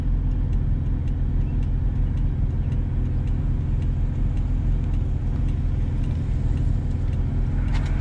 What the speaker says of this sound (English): I'm going to go for a nice drive so you guys can hear the Racing Beat header and exhaust